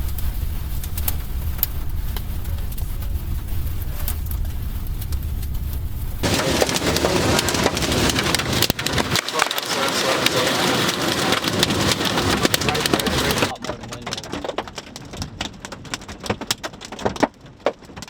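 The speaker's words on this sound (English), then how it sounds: "Hail. Got hail." Hail pelts down hard during a supercell storm, a dense, loud rattle of stones striking surfaces that shifts in intensity over time, with no voices.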